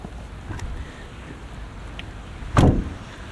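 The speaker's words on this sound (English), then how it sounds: "Open the door with that button." Door of a 2024 Fiat 500e electric car opened with its button: a single short mechanical clunk and release near the end, following quiet outdoor ambience and a faint earlier click.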